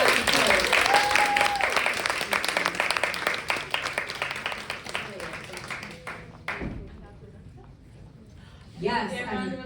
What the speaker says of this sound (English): Can we give the panellists a massive round of applause?